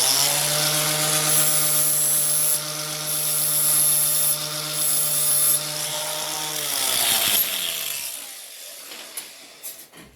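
A blunt metal scribe is sharpened on a power tool, producing a loud, steady high whine with a grinding rasp that holds for several seconds, shifts in pitch, then winds down and fades out.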